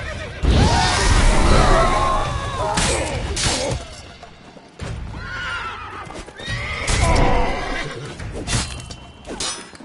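Horses neighing and whinnying loudly during a castle battle in The Witcher 3: Blood and Wine, with hooves clopping and clashing noises, several shrill whinnies spread across about ten seconds, close and prominent.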